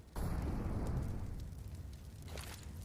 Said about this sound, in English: The nade's doing so much damage to Dinko